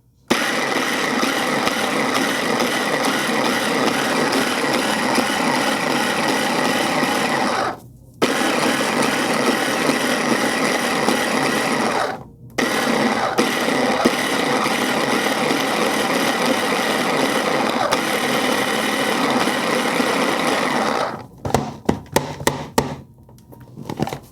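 A food processor chops ingredients for a seafood boil, its loud, close motor roaring in long runs broken by two short pauses before a few quick final pulses.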